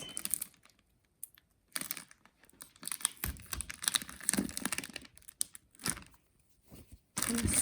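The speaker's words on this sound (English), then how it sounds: "Now we finally tape that in place." Tape being applied to gift wrapping paper: quiet, irregular crinkling, tearing and tapping handling noises come in short bursts, close by, with brief pauses between them.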